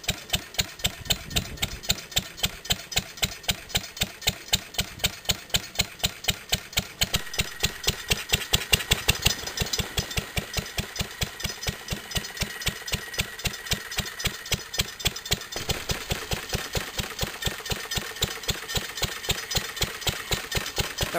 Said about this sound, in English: it's just the timing chain occasionally hitting the timing chain cover